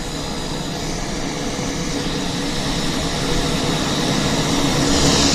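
Aircraft engines run steadily at Vancouver airport, a loud, continuous broadband roar that holds constant and swells slightly toward the end, with no voices over it.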